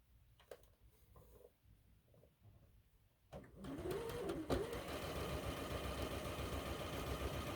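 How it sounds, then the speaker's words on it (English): A sewing machine stitches slowly while a block for a Cuddle Up sampler quilt is pieced, starting after a few seconds of quiet small handling noises and then running as a steady, close mechanical hum with a rising whine. "Yes, I'm sewing slowly."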